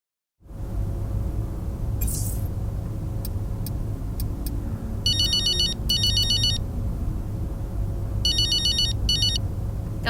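A phone rings in the F1 23 video game, with repeated electronic ringtone bursts in pairs over a steady low engine-like hum, loud and clear, with no talk.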